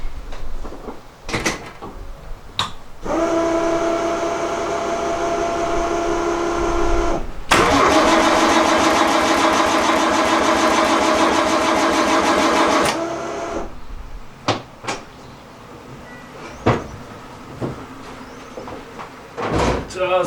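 A car engine cranks over several times with a starter whirring, then fires and runs steadily for a few seconds before cutting out, amid nearby door and garage clatter.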